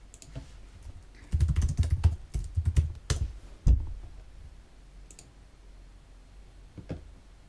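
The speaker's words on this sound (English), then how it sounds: "can I use a cheeky keyboard shortcut?" A computer keyboard is used for a quick shortcut during a coding session, giving a burst of close, crisp key clicks and taps followed by a few isolated keystrokes in a quiet room.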